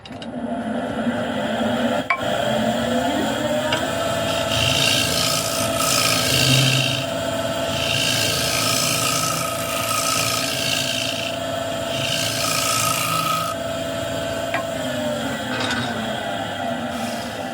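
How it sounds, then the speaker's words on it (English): A scraper cuts into a wooden bowl spinning on a lathe, a continuous rasping scrape over the motor's steady hum, with rhythmic swells in the scraping sound as the tool moves, close and loud, no speech. "I'm just going to go in with the scraper, and that's what I'm going to use"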